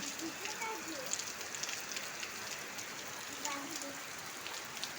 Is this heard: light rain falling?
yes